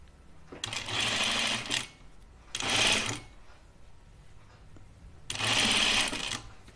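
Sewing machine stitching a gathered dress seam, three separate runs of about one to one and a half seconds each with quiet gaps, close-up and moderately loud, no voices.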